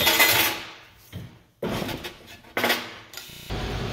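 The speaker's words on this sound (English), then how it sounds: "I can move that piece out and cut the last piece." Sheet metal cut on a shear with the hold-down bar clamped gives a few sharp metallic clunks and slams spaced apart, with quieter rattles and handling noise in between, close and fairly loud.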